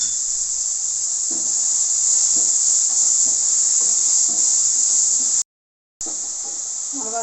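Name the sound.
tomatoes sautéing in a pan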